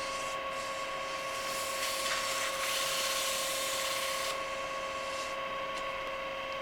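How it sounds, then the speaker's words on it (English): A small metal part for a Solar Stirling engine model is cleaned up with 440 grit sandpaper: a hissing rub swells over a steady machine hum in the middle, then fades back to the hum. "And then a little 440 sandpaper, clean it up a little bit."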